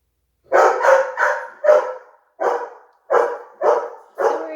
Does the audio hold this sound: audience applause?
no